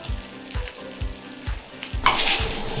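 Sirloin beef searing in a pan over high heat, a steady close sizzle with periodic low thumps and a brighter hiss surging near the end, no voices.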